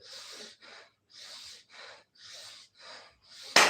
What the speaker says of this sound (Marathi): दीर्घ श्वास घ्या दीर्घ श्वास सोडा